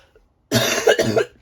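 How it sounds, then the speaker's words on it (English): One close, loud, harsh cough in two quick bursts, following a moment of near silence. "Sorry, I have a lingering cough."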